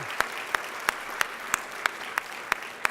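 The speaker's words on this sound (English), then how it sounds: "now you can give them a big round of applause" An audience applauds at a charity fall luncheon. The clapping is soft and steady, and a sharp regular tapping stands out above it at about three beats per second.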